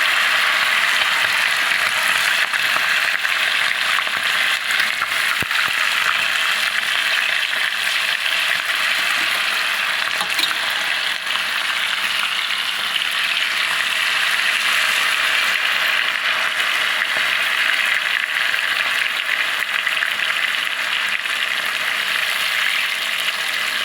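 Marinated chicken skin pakoda frying in hot oil, a steady, dense crackling sizzle that holds close and loud throughout, with no talk over it.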